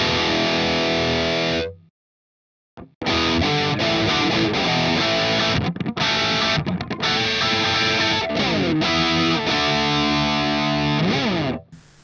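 Heavily distorted electric guitar through an ADA MP-1 Classic tube preamp plays a crunchy riff with a brief silent gap early on, chords ringing thick and saturated, then cutting off abruptly.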